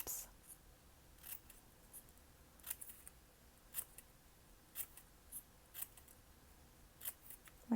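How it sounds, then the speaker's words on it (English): Scissors snip paper for a heart cactus craft, giving a quiet series of about a dozen short, crisp cuts at a steady pace in a calm room. "you're just going to make some snip, snip, snips."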